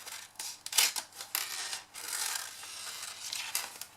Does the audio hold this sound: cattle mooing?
no